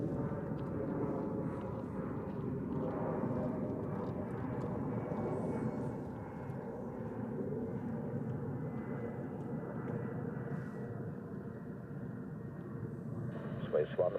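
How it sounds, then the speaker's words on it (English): A Delta airliner climbs overhead after liftoff and a long turn at Zurich Airport, its broad engine roar loud and sustained for the whole stretch, with faint radio chatter and talk beneath it. "Delta right above us after the long turn after liftoff."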